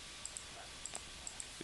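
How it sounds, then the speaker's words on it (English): Faint computer mouse buttons click in quick pairs, a few double clicks spaced across a quiet moment with no talking. "I'm right mouse button clicking"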